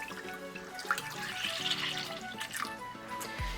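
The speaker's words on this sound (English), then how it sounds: "We will now add in our milk and cream mixture." A milk and cream mixture is poured into a potato bake in the pan, a close, steady liquid gush and gurgle with a few splashy bursts, running alone without talk.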